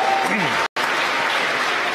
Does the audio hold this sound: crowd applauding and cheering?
yes